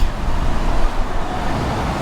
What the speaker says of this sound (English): Almost too much traffic,